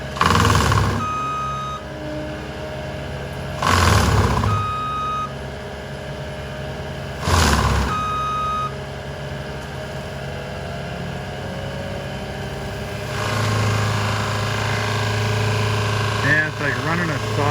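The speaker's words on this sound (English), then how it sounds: "Running a saw blade into wood." A heavy engine drones throughout while loud bursts of grinding and cutting come and go as a Fecon Bull Hog forestry mulcher eats into trees, with voices talking over the machinery.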